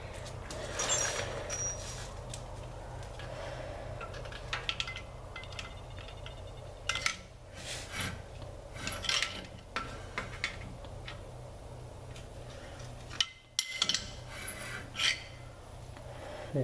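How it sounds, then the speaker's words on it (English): Metal scraping and rasping recurs in irregular bursts as a screwdriver pries at a rear brake rotor on a 2001 Dodge Ram 3500 dually, with occasional sharp clanks and a low steady background hum. "Just to show you how it does come off with a screwdriver."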